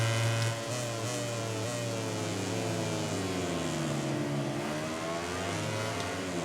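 A racing Aprilia motorcycle engine in the MotoGP 18 video game drones loudly and continuously, its pitch rising and falling as it accelerates out of a corner, with other bikes close by.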